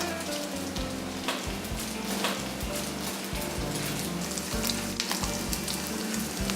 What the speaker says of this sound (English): the bacon has already started to release a lot of its fat